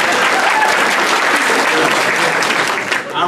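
Loud, dense applause from a crowd at a candidates' meet and greet, sustained and steady throughout with only a slight dip at the end.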